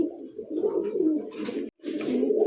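Pigeons with red colour markings coo continuously at close range, a low rolling, throaty warble broken by one brief pause before resuming.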